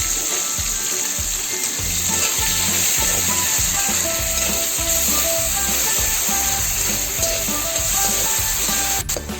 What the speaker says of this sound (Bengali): রসুন বাটার সঙ্গে আমি টমেটোটাও দিয়ে দিলাম।